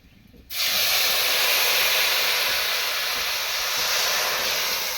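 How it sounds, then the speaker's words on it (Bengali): Mustard paste water poured into hot oil bursts into a loud, steady, hissing sizzle that starts abruptly and holds at full strength, close by with no talk, in a Bengali sorshe ilish recipe. "এই গরম তেলের মধ্যে এই সর্ষে যে বাটার জলটা দেখো ঢেলে দেবো এর মধ্যে"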